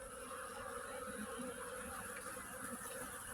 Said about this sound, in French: Un frelon qui se tire.